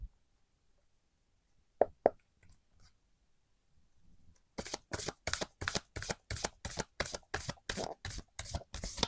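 Tarot cards are riffled in a quick, even run of crisp shuffling bursts after a mostly quiet start with a couple of soft taps.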